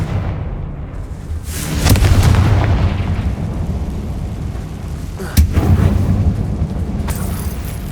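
The Confringo fire-blast spell in Hogwarts Legacy, cast inside a mine, lets out two loud crackling blasts several seconds apart, each trailing into a rolling, rumbling roar over a constant low background.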